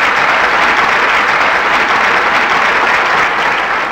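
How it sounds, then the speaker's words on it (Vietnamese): A studio audience on the Vietnamese TV game show Đi tìm ẩn số claps loudly and steadily to cheer on two contestants, keeping up a thick wash of applause throughout. "quý vị sẽ dành những tràng pháo tay thật ưu ái để cổ vũ tinh thần cho hai thí sinh của chúng ta"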